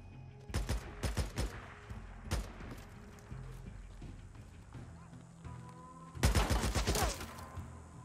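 Gunfire from the zombie survival video game Days Gone comes in two loud rapid bursts, one early and a heavier volley near the end, with game sounds filling the gaps between them.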